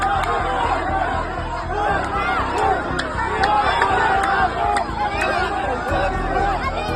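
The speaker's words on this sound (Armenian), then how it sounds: "Նախկին հոգևորականին քաղաքացիները բղավոցներով ու սուլոցներով դուրս հանեցին թաղամասից։" An angry crowd in Jerusalem shouts and whistles at an expelled former priest, a dense, continuous roar of overlapping voices with sharp whistles piercing through, loud and close throughout.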